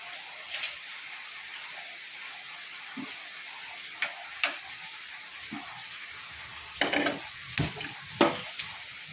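Tamarind chilli curry with chilli, fenugreek and turmeric powders simmering in a pot on the stove, a low steady bubbling hiss broken by several sharp spoon-against-pot clicks and taps, no voices.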